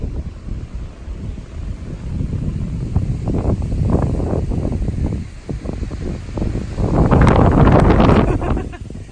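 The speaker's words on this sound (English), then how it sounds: "It's quite windy today though." Spring wind in Hokkaido near a river estuary buffets the microphone in loud, gusting rumbles that swell and ease, strongest toward the end, continuous and close throughout.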